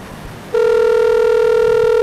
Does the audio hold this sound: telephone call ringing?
yes